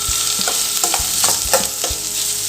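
Carrot, curry leaves and coriander sauté in hot oil with a steady close sizzle, punctuated by regular scraping stirs of a spatula against the pan roughly every half second.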